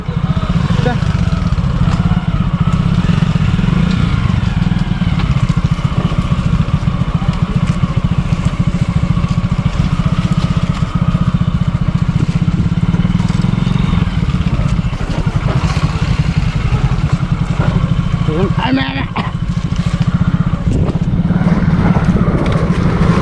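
A motorcycle engine drones steadily and loudly throughout a ride on a rural outing, with a constant low rumble and some rattling clatter. Wind noise runs through it, and no voices stand out.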